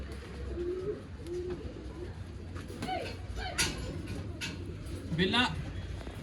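Old-line pigeons offered for sale in Bangalore give a few soft low coos, with sharper bird calls and clatter scattered over steady background noise, while someone talks nearby.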